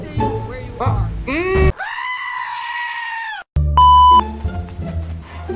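A long, strained goat bleat in Goat Simulator 3 rings out between bursts of cartoonish game sound effects and an electronic beep, loud and close.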